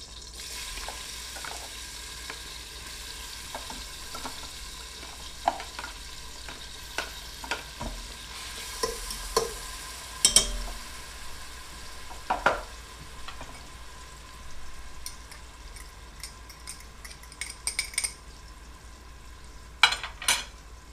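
A single pork chop fries in a pan with a soft, steady sizzle, broken by scattered clinks and scrapes of a utensil stirring, louder near the middle and end, with no talking.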